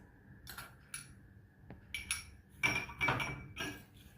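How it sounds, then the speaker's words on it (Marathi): Dried date pieces, sugar, rock salt and grated ginger are stirred together for a date pickle and spooned into a jar, giving faint, scattered clinks and scrapes of utensil on glass with quiet pauses between. "हे सर्व मिसळून बरणीत भरून ठेवायचं."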